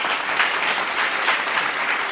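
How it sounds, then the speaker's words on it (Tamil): A church congregation at a Tamil Sunday service claps hands together in steady, dense applause that fills the room, loud and continuous. "கைத்தட்டுங்க"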